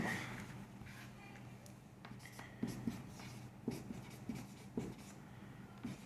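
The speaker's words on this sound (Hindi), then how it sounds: "तो मैं ही अपना नाम लिख देता हूं" A pen writes a name by hand on paper, a quiet scratchy scribble broken by a few faint taps and strokes over a low room hum, with no talking.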